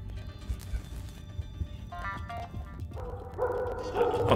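A dog in the Leisure Suit Larry video game barks and yips several times, sharp game-audio barks that build into a louder, denser stretch toward the end.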